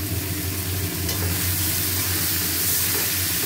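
Boiled banana flower stir-fried in spiced oil that has released from the masala, a dense, even sizzle and hiss with a low hum beneath, close and steady throughout, no voices.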